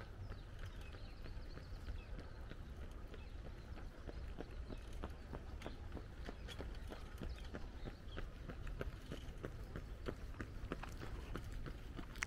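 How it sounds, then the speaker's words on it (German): Rhythmic thudding footsteps of people jogging past outdoors in Maspalomas, a steady patter of strides on a hard path over quiet ambient background with no sea noise. "das Trappen. Kommt nicht von den Pferden, nein, das kommt von den Joggern."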